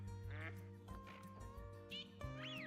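Mallard ducks quacking in the hunting video game Call of the Wild, several nasal quacks in quick bursts over a steady droning background, with faint talk.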